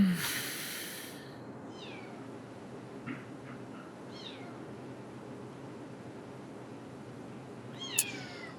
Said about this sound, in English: Here the kitten's awake again.